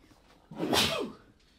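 A single close sneeze bursts out, sharp and loud, then trails off quickly into quiet.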